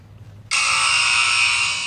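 A loud, sustained electronic buzzer blares suddenly after a quiet moment and holds steadily to the end.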